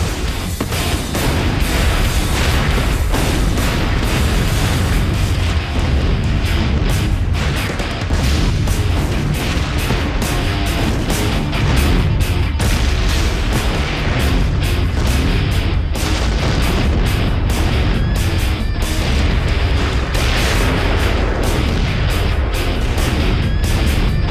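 Repeated loud booms and bursts from acetylene cylinders exploding in a burning building, going off irregularly for a long stretch, with rumbling and crackling between blasts.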